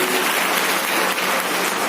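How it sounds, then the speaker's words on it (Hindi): Loud, dense applause from an audience at a business meeting, continuous clapping with no talk over it. "एक जोरदार ताली होनी चाहिए"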